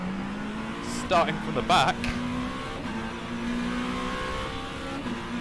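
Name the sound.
LMP2 race car engines at race start, video game rFactor 2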